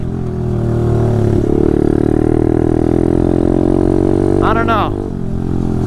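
A pit bike engine runs steadily while riding outdoors in fall, a loud continuous drone with a slight rise in pitch, and someone speaks briefly near the end over the motor.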